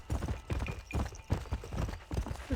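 Horse hooves clip-clopping in the video game Red Dead Redemption, a close, steady rhythmic trot of hoofbeats with no talk.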